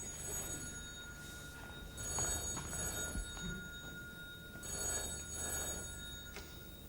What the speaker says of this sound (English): the phone finally rang